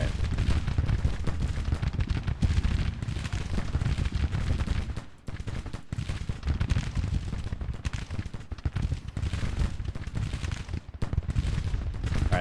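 Heavy musket volleys and rolling artillery booms from a Civil War battle in the strategy game Grand Tactician: The Civil War form a loud, unbroken roar of gunfire, with one brief lull midway.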